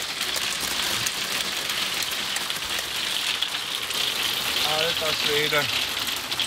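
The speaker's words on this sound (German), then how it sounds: "Und draußen hagelt es jetzt. Eiskörner, super." Hail pelts the outside of a caravan in a steady, dense broadband patter that runs through the whole stretch, with a man's brief exclamation cutting in near the end.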